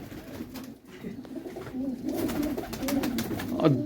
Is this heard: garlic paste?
no